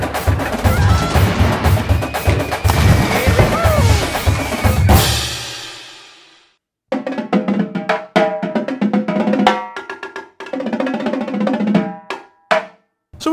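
Computer-generated marching drumline from Virtual Drumline 2.5, first a dense wash of snares, cymbals and bass drums, then after a brief pause crisp rhythmic hits of drums and cymbals, loud and close with no talking.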